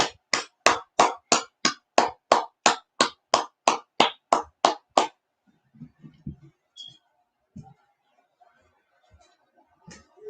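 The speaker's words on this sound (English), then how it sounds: "Let's clap it up." Audience clapping in unison at the close of a brotherhood class: about fifteen sharp, evenly spaced claps, loud and close, then stopping abruptly with faint scattered movement afterward.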